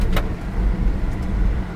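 Honda all-time four-wheel-drive car driving, heard from inside as a steady low rumble of engine and road noise, with a brief higher click near the start.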